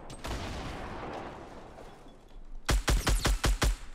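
Gunfire in the Fortnite video game: after a stretch of muffled ambience, a burst of six or seven loud, closely spaced shots rings out near the end.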